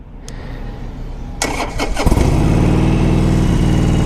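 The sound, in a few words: 2015 Harley Davidson Sportster Forty Eight motorcycle engine starting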